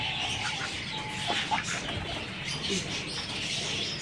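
Soft clucking from a pair of Chinese hens in a large cage, faint and intermittent over a steady background hiss.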